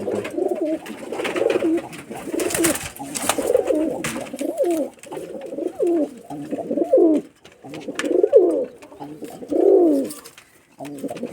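A Rajshahi giribaz pigeon with heavily feathered feet coos close by in a run of repeated low, throaty bursts, each swelling and fading with short pauses between.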